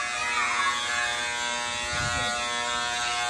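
Electric hair clippers buzz steadily and close up while cutting a child's hair, a constant motor hum with slight changes in tone as the blades move, and no talk over it.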